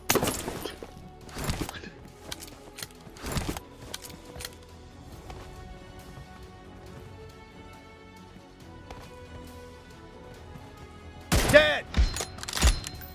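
Gunfire in the PUBG Mobile battle game, bursts of rapid shots near the start and a dense cluster of loud cracks near the end, with quieter in-game rumble and footsteps between.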